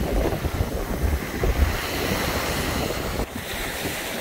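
Waves wash steadily against the rocky Lake Erie shore along the Ohio coastline, a loud, continuous rushing surf mixed with wind buffeting the microphone and no voices.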